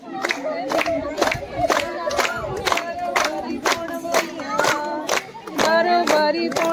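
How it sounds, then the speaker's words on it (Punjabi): Crowd at a Teeyan festival gathering in Punjab breaks into loud rhythmic clapping and cheering, many hands beating in unison with shouts and singing voices mixed in. "ਤਾੜੀਆਂ ਪੂਰੀਆਂ ਵੱਜ ਰਹੀਆਂ"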